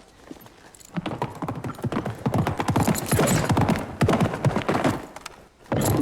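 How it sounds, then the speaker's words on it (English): A horse ridden away at a trot, its hooves clip-clopping rapidly and loudly in a steady, continuous rhythm on hard ground, close at first, with no voices over it. "Whitey, take that bucket and ride out until I signal."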